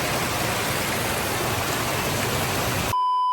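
Heavy rain pouring down on a roadside shelter during a motorcycle trip, a dense steady hiss filling the clip before cutting off abruptly near the end.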